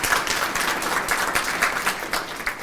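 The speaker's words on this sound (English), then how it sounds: "Let's give them both a round of applause." An audience at an opening session breaks into dense, steady applause, many hands clapping together at an even level throughout with no voices on top.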